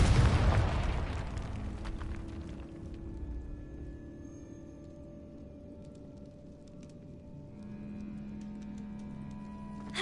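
A Confringo fire spell in a video game explodes with a sudden loud blast that rolls into a fading rumble, leaving a quiet, tonal game ambience behind.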